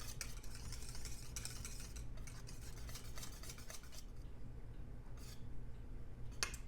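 Small whisk stirring fudge cake mixture in a pan on the stove, a steady scraping and clinking of wire against metal with soft sizzle beneath, continuous and close.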